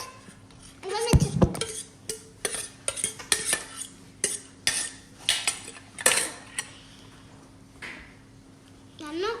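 Banana cake batter with spices and sugar being mixed in a bowl with utensils, giving a series of clinks, scrapes and taps in an irregular rhythm, close by, with a person talking between them.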